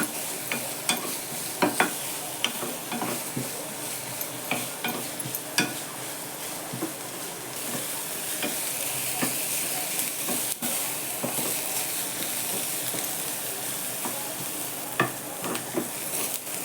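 Onion sautéing in a pan for a winter leafy vegetable dish, a constant loud hissing sizzle punctuated by frequent clicking stirs and scrapes, close up and without speech.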